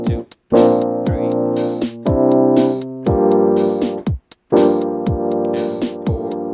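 Sustained piano chords from a song ring out loud over a steady kick-drum beat, changing in regular blocks with brief gaps between phrases.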